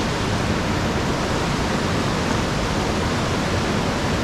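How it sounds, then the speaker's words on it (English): Water rushing down a mountainside beside moss, a steady, loud, broadband roar with no pauses. "watching the water come down the mountainside"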